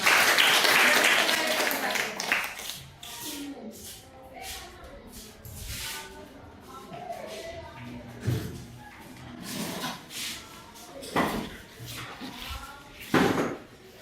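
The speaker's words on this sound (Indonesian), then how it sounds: "Mari berikan aplaus kepada kelompok 5" Applause for a student group in a classroom, a loud burst of clapping at the start that thins out into scattered claps and murmuring voices.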